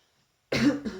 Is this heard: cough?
yes